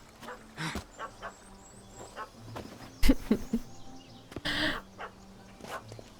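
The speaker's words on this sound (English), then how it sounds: "Is that the scary dog?" A dog in the video game The Witcher 3 barks in a few scattered bursts over quiet in-game ambience, the loudest yelps coming midway.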